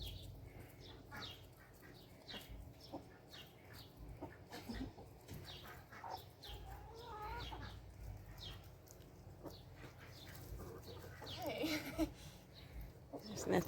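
A backyard chicken, a rooster with a mohawk, clucks and squawks in irritated bursts at close range, with a person talking over much of it.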